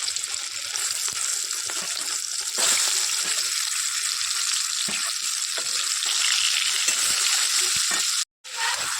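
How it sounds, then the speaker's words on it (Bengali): Fish dropped into a pan of hot oil tempered with black cumin, giving a loud, steady, crackling sizzle that swells slightly partway through and cuts out briefly near the end. "চলো মাছগুলো দিই।"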